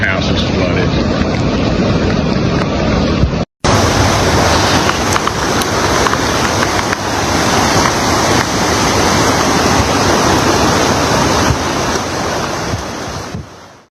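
Flooded Guadalupe River in Texas, high, fast-moving floodwater giving a loud, continuous roar with wind buffeting the microphone, briefly cut off then resuming.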